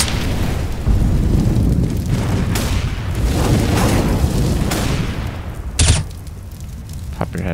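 A fire grenade thrown in a Counter-Strike match lands as a dense, roaring burst of broadband noise that sustains for several seconds, with a sharp bright pop near the end, all loud and close.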